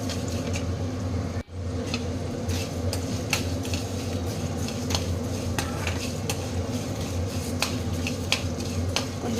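Whole spices being stirred and dry-roasted in a pan for a Tamil country-chicken fry recipe, a steady scraping stir with faint sizzle, near and continuous, and a sharp clink of spatula on metal now and then.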